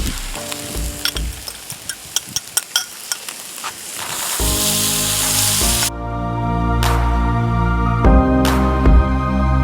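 A few sharp taps come first, then a loud, dense sizzle swells and holds as three eggs hit a hot Camp Chef FTG600 flat-top griddle during chicken fried rice cooking.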